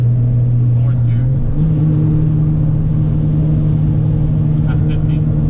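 Car fitted with an ISR Performance single-exit exhaust cruising in fourth gear, giving a loud, steady low drone whose pitch steps up slightly early on, with a voice talking over it.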